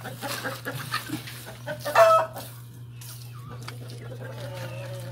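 A brooding hen clucking softly nearby in a henhouse, with a louder squawk partway through over a steady low hum.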